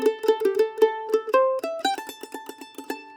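A mandolin plays the short tag of a tune, including pickup notes and a slide, with crisp plucked notes that speed into a quick run, close and unaccompanied.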